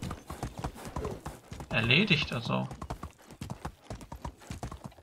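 Horse hooves clip-clop in a steady fast rhythm while riding in the medieval game Medieval Dynasty, loud and continuous under someone speaking German, with a brief burst of other game sound midway.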